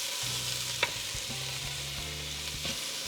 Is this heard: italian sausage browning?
yes